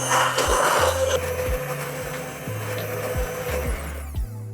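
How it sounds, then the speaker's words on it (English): Kitchen blender whirring through tomato pulp with onion, garlic, oregano and basil, a steady close motor drone with a repeating low pulse as the blades churn, winding down at the end. "just after we blend everything together"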